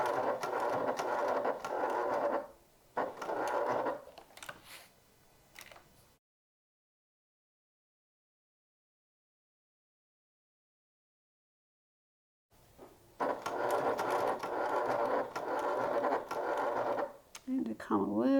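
A sewing machine stitches a top handle bag in two short runs at the start, then falls silent for several seconds before running again near the end, all close up with a voice talking over it.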